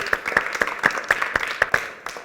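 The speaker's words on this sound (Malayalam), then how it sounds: "ഒരു ബിഗ് ക്ലാപ്പ് കൊടുത്ത ഈശോയ്ക്ക്" An audience in a Christian gathering claps in a steady rhythmic beat for Jesus, a brief burst of many hands close and even.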